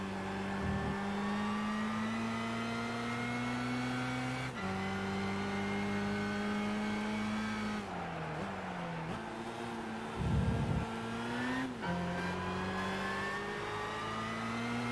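Race car engines roar steadily in Gran Turismo 5 during a DTM-style race with Mercedes and BMW cars, including an SL 600, on sports soft tyres; a loud, sustained engine drone with rising revs, gear shifts and brief dips, heard alone.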